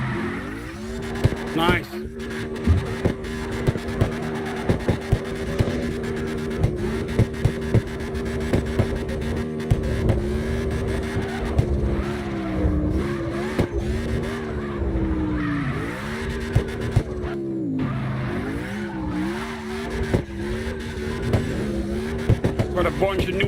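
A Dodge Hellcat drifting in the CarX Drift video game, its engine tone rising and falling with throttle over a long run, accompanied by tire squeal. A voice briefly speaks once.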